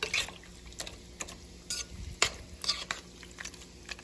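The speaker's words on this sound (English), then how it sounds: "I'm just gonna mix it and let that warm up just a little" Cream of mushroom being stirred into a seasoned chicken dish in a warm pan, with soft scraping strokes and a faint sizzle, close and quiet, with no talking.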